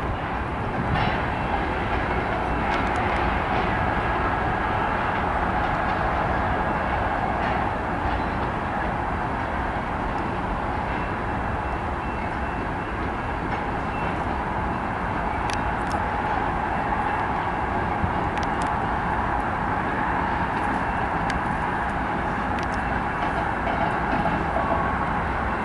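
BNSF ES44C4 locomotive leading a grain train with a CEFX AC4400CW trailing in El Paso, Texas, rumbling steadily past close by, with continuous wheel and railcar noise throughout.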